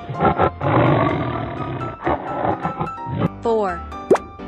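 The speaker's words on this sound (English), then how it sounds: "Tiger." A cartoonish tiger roar rumbles loudly through much of the stretch amid busy children's-animation sound effects, ending in boinging, sliding tones and a quick plop.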